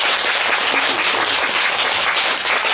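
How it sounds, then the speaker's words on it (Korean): Audience applause at a gathering, a dense, loud burst of many hands clapping that continues steadily throughout. "박수."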